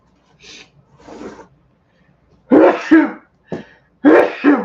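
A man coughs and hacks in several loud, rough bursts close by, with short pauses between, after a few quieter breathy sounds.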